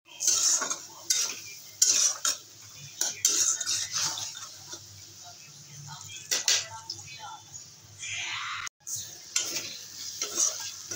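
Spice paste with chilli powder, salt and green chilli sautéing in a pan, sizzling steadily while a utensil scrapes and clinks against the pan in repeated stirring strokes, with brief pauses.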